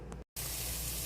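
Onions frying in a pan give a steady, fine sizzle, a constant hiss heard close up after a brief dropout at the start.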